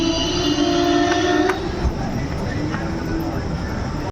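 A passenger train pulls out of Narwana Junction in India at night. A low rumble and rail clatter come from close by, with a brief horn-like tone and voices in the background.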